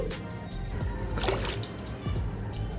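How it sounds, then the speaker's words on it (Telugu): Fresh ginger pieces are rubbed and swished in a bowl of water to clean off soil, giving close splashing and sloshing with brief trickles. "ఇప్పుడు వాటర్లో వేసుకొని క్లీన్ చేసుకోవాలి"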